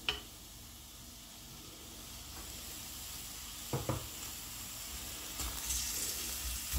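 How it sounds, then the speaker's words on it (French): Chopped onions fry gently in a little olive oil for a minced-meat filling, giving a faint, steady hiss with a couple of brief clicks and clatters partway through. "j'ai mis un petit peu d'huile d'olive pour faire revenir les oignons"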